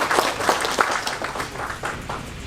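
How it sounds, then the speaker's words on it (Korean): Steady applause from an audience at the Nogunri Peace Prize award ceremony, a sustained wash of many hands clapping at moderate distance, no talking over it. "박수로 맞이해 주시기 바랍니다."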